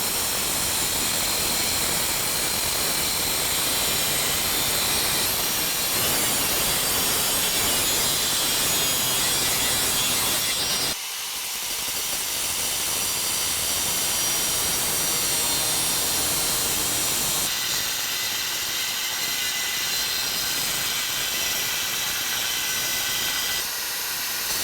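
Power cutting through the top of a 2017 Silverado 2500 HD truck frame during a lift kit install, a loud, harsh grinding hiss running continuously with a brief dip partway through before resuming.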